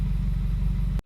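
A 2017 car with coolant and boost leaks, a vacuum leak and misfires idles steadily, its engine giving a close, continuous low rumble with an even pulsing throb until it cuts off abruptly.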